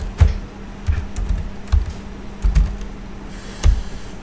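Fingers tap out a command on a computer keyboard, several distinct clicky keystrokes in an uneven rhythm, close and clear with no talking.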